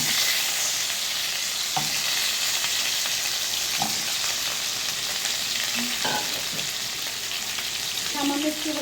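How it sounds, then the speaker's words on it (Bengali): Potatoes fry in a pan for a Katla fish kaliya, giving a continuous loud sizzle broken by occasional scraping knocks as they are stirred. "এখন আমি লাল লাল করে আলুগুলো ভেজে নিব।"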